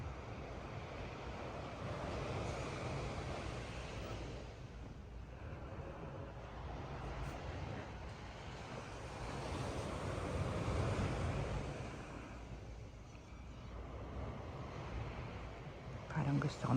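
Ocean waves wash steadily onto a beach in Cancun, Mexico at high tide in the early morning, a continuous broad surf roar with wind buffeting the microphone and no talk.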